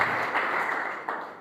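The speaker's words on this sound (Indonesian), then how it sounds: "Tepuk tangan terbaik buat Tuhan Yesus Kristus." Congregation applause during a church sermon, a dense steady wash of many hands clapping that holds at an even level for the whole moment, with no voices over it.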